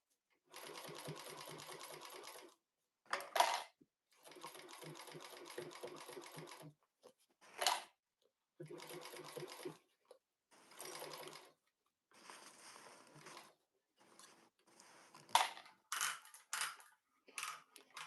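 A sewing machine stitches through thick, heavily interfaced seams in bursts of steady whirring, several runs of a few seconds each separated by pauses and short sharp clicks, close and clear with no talking.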